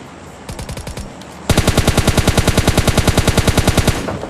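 Automatic gunfire from PUBG Mobile Lite: a few scattered shots, then a loud, sustained rapid-fire burst with evenly spaced, sharp reports continuing to the end.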